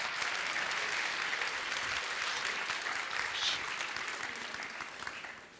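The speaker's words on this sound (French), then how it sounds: "nous allons demander à Hervé Penant de nous rejoindre de nouveau sur scène sous vos applaudissements" Audience applause at a master's diploma ceremony as Hervé Penant returns to the stage, a dense steady wash of many hands that holds strong and then tapers off toward the end.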